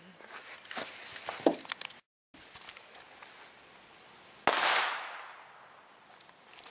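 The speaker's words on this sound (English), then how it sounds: "Wow, that was a big explosion." Sharp crackling pops, then one loud explosion from the video game Halo 4 bursts out and rumbles away into a fading roar.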